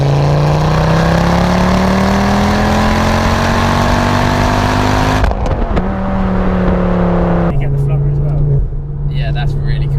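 A 320bhp Ford Focus ST engine rasps and climbs in pitch under acceleration, then drops and settles into a lower steady drone, loud and close, with people talking over it.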